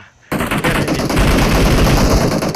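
Loud, continuous automatic gunfire from the PUBG Mobile video game bursts in after a brief moment of quiet and rattles on densely, with rapid overlapping shots and no talk over it.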